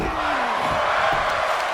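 A wrestling crowd in Memphis, Tennessee chants and roars in a dense, loud wall of voices throughout a brief stretch.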